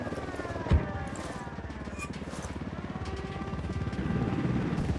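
A helicopter in Ghost Recon Wildlands flies close by, its steady rotor thump and whine loud and continuous, swelling slightly toward the end, with a brief sharp knock early on.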